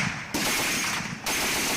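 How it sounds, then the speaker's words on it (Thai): Rapid bursts of machine gun fire from communist insurgents rattle continuously, with two brief dips between sustained volleys, loud and close. "มีเสียงปืนกล จากการยิงของผู้ก่อการร้ายคอมมิวนิสต์ดังขึ้นมาอย่างหนาแน่น"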